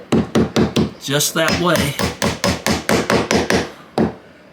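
Close, steady hammer blows drive finish nails into wooden door trim pulled off during a full door replacement, about a dozen crisp strikes in a brisk rhythm with a short pause where a voice speaks.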